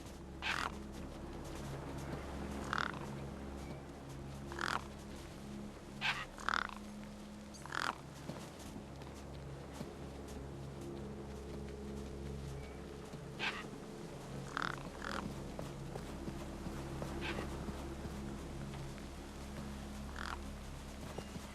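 Gang birds in Beyond a Steel Sky caw harshly near a corpse, repeated short calls scattered across a quiet, low-humming background, some nearer and louder than others.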